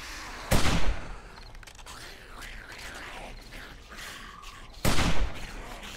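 Hunting rifle fire in the zombie survival game 7 Days to Die: two loud, sharp gunshot bursts several seconds apart, with muffled mechanical clatter and faint game noise in between.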